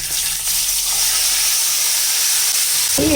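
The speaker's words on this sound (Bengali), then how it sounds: "পেঁয়াজ আর কাঁচা লঙ্কা বাটাটা একটু কষিয়ে তারপরে দেব অন্য মশলাগুলি" Onion and green chili paste frying in a pan with bay leaf, cardamom and cinnamon for a Bengali katla fish kalia, giving a steady loud hiss with a brief sputter near the end.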